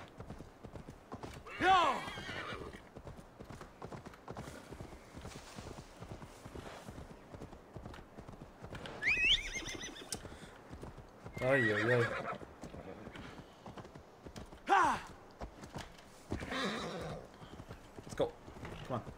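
Horse galloping in Assassin's Creed Valhalla, a steady clip-clop of hooves throughout with several loud neighs and whinnies rising over it, while someone talks briefly in between.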